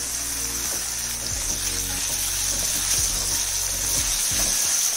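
Tomatoes and capsicum sizzle steadily in a hot pan on high flame for vangibath, with a constant close frying hiss and occasional soft stirring scrapes.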